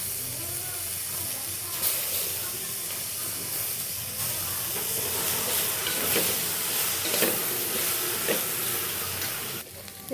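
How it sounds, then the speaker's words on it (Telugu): Fresh mint leaves fry and sizzle in hot oil with carrots and soy chunks while veg pulao is cooked, a steady bright hiss with stirring scrapes that runs loud and unbroken, with no talk over it. "ఇప్పుడు పుదీనా వేసుకోవాలండి."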